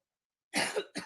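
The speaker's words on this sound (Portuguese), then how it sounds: "Peço desculpas pela tosse, é um pouquinho alérgica" A woman coughs twice in quick succession, close and fairly loud: a long harsh burst followed by a shorter one, with silence before.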